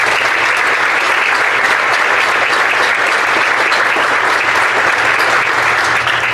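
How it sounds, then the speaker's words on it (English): Sustained, dense applause from a banquet audience at a Sapulpa Public Schools Teacher of the Year event, loud and steady throughout with no break. "I think we should give them a round of applause."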